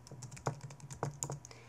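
Quiet, rapid tapping of keys on a computer keyboard, a short run of irregular keystrokes recorded close up with faint room tone.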